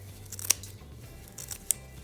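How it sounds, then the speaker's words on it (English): Scissors snipping craft material into little pieces for a Dollar Tree Easter decoration, two sharp distinct cuts about a second apart over a quiet low hum, no talking. "just cutting it with the scissors into little pieces works"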